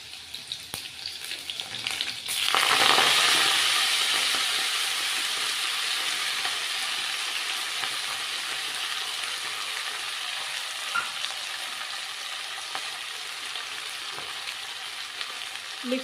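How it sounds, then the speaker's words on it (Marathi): Green chilies frying in a pan with fenugreek leaves, a steady close sizzle that surges loudly as the leaves go in and then settles into a continuous even crackle. "मिरची छान भाजली त्यामध्ये मेथीची भाजी टाकून घेऊयात आपण."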